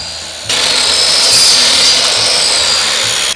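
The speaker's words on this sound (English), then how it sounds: "Then I measured each board to a precise size and cut it with the miter saw." Miter saw cutting a wooden board, loud and close: a sharp start of the blade spinning into a steady high whine that holds for about three seconds, then stops abruptly, with no talking.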